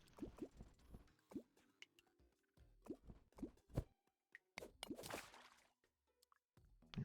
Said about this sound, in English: Okay, let that water flow down there.